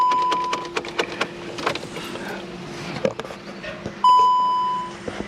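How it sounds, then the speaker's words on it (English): Dashboard warning beeps and a chime from a non-running, abandoned 2018 VW T-Roc in Barbados with component protection active: a short tone early on, then a loud sustained chime near the end, over faint clatter and rustling. "Component protection active, and it's just beeping and making a whole bunch of noise"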